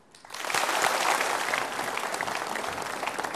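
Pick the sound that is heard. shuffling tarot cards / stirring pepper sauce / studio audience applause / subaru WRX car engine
studio audience applause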